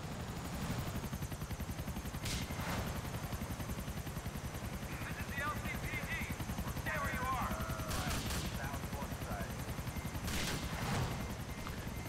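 Gunfire bursts in Grand Theft Auto IV, played with an Iron Man mod: a few sharp volleys crack out over steady engine-like rumble and game noise, with someone talking throughout.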